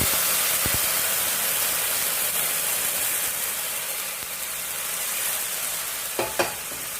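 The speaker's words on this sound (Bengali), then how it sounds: "এখানে গরম জল দিচ্ছি।" Hot water poured into a pan holding two packs of Maggi noodles for masala cheese Maggi, a steady hissing, sizzling wash running nearly the whole time at close range, ending with a couple of brief knocks.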